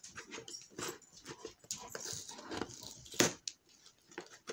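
A pet dog indoors makes soft, intermittent whimpering and panting sounds in short bursts near the microphone, with faint rustling of a package being opened close by.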